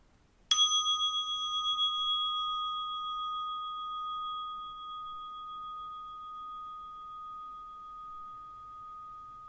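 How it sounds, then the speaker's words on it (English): A single meditation bell is struck once, then its clear, pure tone rings on and slowly fades over several seconds in near silence. "You will hear the sound of the bell to mark the beginning and the conclusion of the meditation."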